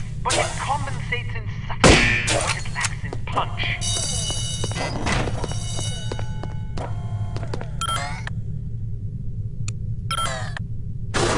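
A silenced Hampton .45 pistol in No One Lives Forever fires with a muffled, stifled thunk, one sharp shot standing out among quieter game clicks and beeps under a continuous steady hum.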